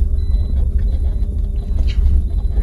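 Car engine rumbling with a loud, steady low drone throughout, heard from inside the vehicle during a first driving lesson, with no talk over it.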